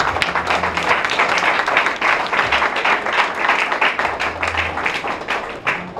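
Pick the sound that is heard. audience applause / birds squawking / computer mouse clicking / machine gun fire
audience applause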